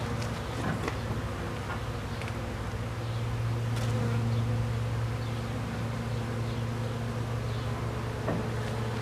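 A swarm of honeybees drones continuously at a hive site, with a steady dense buzz and individual bees passing close now and then.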